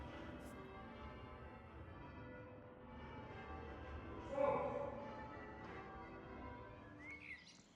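Church bells rung by bell ringers at an ancient Welsh church sound steadily as a faint, distant, continuous ringing, with birds chirping now and then.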